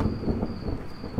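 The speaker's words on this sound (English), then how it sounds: "Thunder and whatnot might seem a little bit shitty." Thunder rumbling in the survival video game CastleMiner Z, a dense low roll running through the whole brief moment with rain-like hiss above, steady and moderately loud with no voices.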